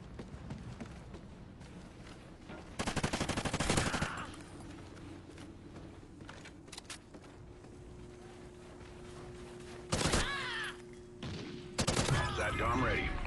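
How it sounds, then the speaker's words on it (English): Sniper gunfire in the video game Call of Duty: Ghosts, rapid crackling bursts of shots in a few separate volleys against quieter game ambience, with voices coming in between. "Ultimate Call of Duty Ghost Sniper Kills."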